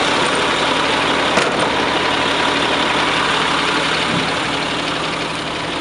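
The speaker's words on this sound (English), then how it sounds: "Show you the motor, the Caterpillar motor." A Caterpillar diesel engine in a Sterling reefer truck idles steadily up close, a loud, even low rumble with a faint turbo whine and a brief knock partway through.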